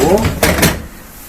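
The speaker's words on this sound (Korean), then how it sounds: "서랍 끝까지 빼시고" The lower drawer of an LG DIOS Objet dishwasher slides all the way out in a short rolling scrape with a couple of sharp clicks, close and loud before fading out, with someone speaking nearby.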